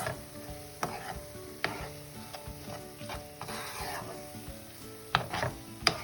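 Tomato with a spoon of red chili powder frying in a pan and being stirred, a steady low sizzle broken by scraping strokes and a few sharper clanks, close and alone with no voices.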